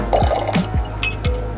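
Liquid pours from a Japanese jigger, a short splashing fill with small drips and light glassy clinks, heard up close.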